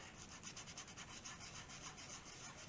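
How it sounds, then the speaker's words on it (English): Cured JB Weld on a Gamo Swarm Whisper .22 air rifle is sanded in a faint, steady scratchy rubbing that hisses on without pause, quiet and close. "And so you want to sand down a little bit."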